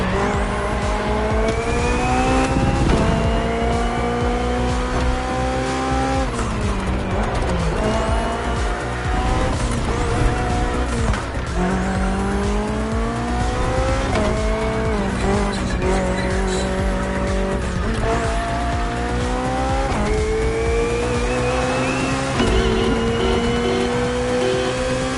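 Hybrid V8 BMW race car in a racing video game, engine note rising and falling through gear changes with tire squeal, loud and continuous for the whole stretch, no talk.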